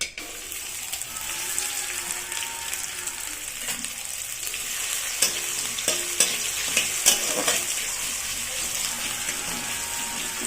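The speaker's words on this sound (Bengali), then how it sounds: "হালকা একটু ভাজা হোক তারপর" Food sizzles in hot ghee in a wok while a utensil stirs and scrapes against the pan with occasional clinks.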